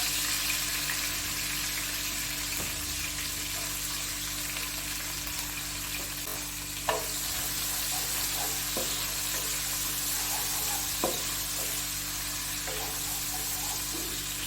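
Onions, with green chillies already added, frying in a pan for crispy potato barad give a steady, even sizzle throughout, with occasional small clicks and taps from stirring and no talk.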